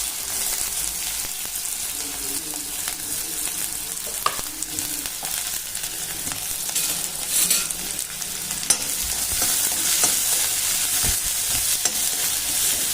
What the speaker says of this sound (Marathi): आपल्याला हा कांदा छान असा गुलाबी कलर येईपर्यंत भाजून घ्यायचा आहे